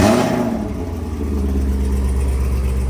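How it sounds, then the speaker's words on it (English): Chevrolet Camaro ZL1 fitted with a TH400 transmission, its exhaust droning loud and steady from inside the car on a long highway drive, a deep continuous engine rumble with no talk. "ZL1 exhaust, guys. One of the best sounding ones there is."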